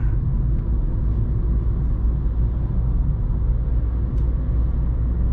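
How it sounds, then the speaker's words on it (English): A very slow, low-powered car strains at full throttle in third gear up a hill, heard from inside as a constant deep engine drone and rumble that stays level with no talk. "Third gear, full throttle, guys, on this uphill. Full throttle."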